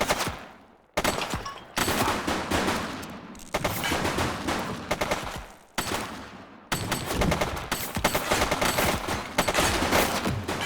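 Loud bursts of gunfire in The Precinct, a police video game, crackle in several heavy volleys separated by brief pauses, rapid and close with no talking.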